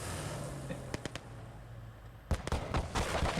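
A heavy tank cannon shot booms in the video game Gates of Hell: Ostfront, a sharp blast followed by rumbling impacts, with a few earlier thuds and a voice talking.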